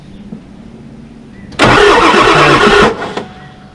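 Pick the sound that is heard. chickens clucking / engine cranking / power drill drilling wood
engine cranking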